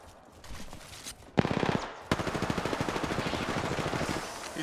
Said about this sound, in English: I'm taking a shot.